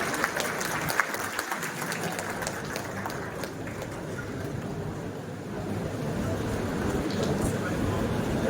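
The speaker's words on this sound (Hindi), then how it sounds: "लाउडली हंसना और ताली बजाना" A college audience at a Seerat-un-Nabi celebration claps loudly and continuously, a dense round of applause with voices mixed in and swelling toward the end.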